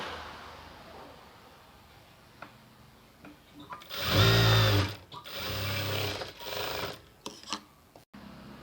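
Domestic sewing machine stitching the curved leg seam of a cotton dhoti salwar, running in a few short bursts with a longer, louder run in the middle and pauses between, close up with no talk.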